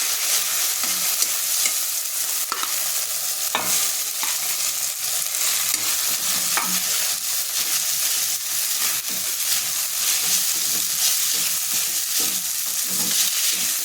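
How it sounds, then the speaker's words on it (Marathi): Sago pearls fry in ghee in a kadai during fasting kheer preparation, giving a steady crackling sizzle with frequent scraping stir strokes throughout, close and fairly loud. "आता त्याच कढईमध्ये तूप आहे, त्याच्यामध्ये आपण साबुदाणा टाकून परतून घेऊया"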